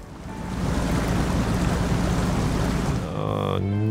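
Rushing river current in the off-road driving game SnowRunner, a steady broad wash of water loud and close, with a low engine drone joining near the end.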